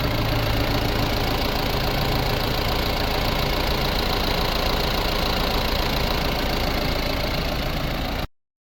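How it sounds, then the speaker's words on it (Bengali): An old Mahindra Big Bolero pickup's engine idles close by, a loud, steady diesel clatter running unbroken until it cuts off abruptly at the end. "ইঞ্জিনের সাউন্ড শুনুন।"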